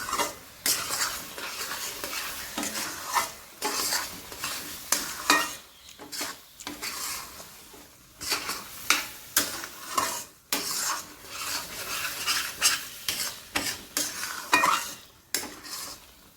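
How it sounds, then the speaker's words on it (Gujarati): A spoon scrapes and stirs carrot halwa with cashew and almond pieces in a pan, repeated rhythmic scraping strokes against metal with a light sizzle underneath, close up and with no talk. "અને હવે એને હલાવી દઈશું અને ગેસ બંધ કરી દઈશું"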